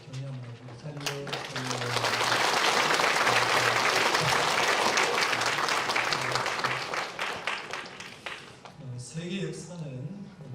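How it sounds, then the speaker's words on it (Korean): A congregation applauds a bride and groom during a church service, clapping swelling to a full, sustained roar before tapering off, with a voice speaking over the start and end. "큰 박수로 믿음으로 잘 사시라고 격려합니다"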